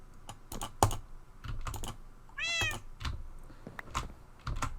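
A Minecraft cat gives one clear rising meow in a game, surrounded by rapid clicky computer keyboard typing up close throughout.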